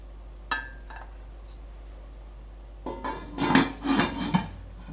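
Flourless blackout bread set back into a cooking pot heated by tealights: a faint early knock, then a close cluster of clattering metal-on-metal clinks and scrapes lasting about a second and a half.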